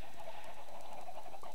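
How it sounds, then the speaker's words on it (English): Minecraft chickens cluck steadily in a busy farm area, a dense layer of overlapping clucks kept at a constant level for more than a second with no talking. "I've got trapdoors with chickens on them, I've got eggs coming out of my ear holes"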